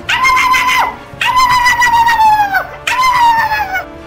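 A dog in the open-world crime game GTA 5 lets out three drawn-out whimpering howls, each rising then trailing down, loud and close with brief pauses between cries.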